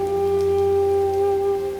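Rain falls steadily as a soft, continuous hiss beneath a constant low hum, with no voices.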